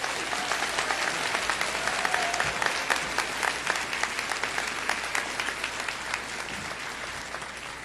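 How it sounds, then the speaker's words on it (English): Audience at a physician assistant studies white coat ceremony breaking into sustained, dense applause that stays steady and full throughout, heard from within a large indoor hall. "one more round of applause for her."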